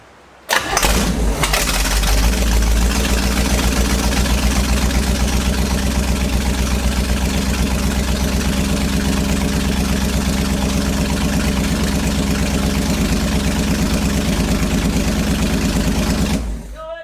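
Vintage 1970s big-block jet boat engine, full of water, cranks and catches after a brief pause, then runs at a loud, steady rumbling idle for about fifteen seconds before cutting off.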